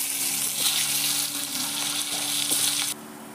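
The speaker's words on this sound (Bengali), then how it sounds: "মাছের ঝোলের আলুগুলোকে আমি আলাদা করে আগে ভেজে নেব।" Potato pieces for a fish curry frying in oil on a clay wood-fired stove: a dense, close, continuous sizzle with a few stirring clinks, easing off abruptly just before the end.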